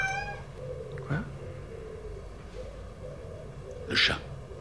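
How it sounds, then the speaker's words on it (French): A cat meows in a short call with a higher, sharper cry near the end, heard over steady room tone in an indoor scene. "Le chat."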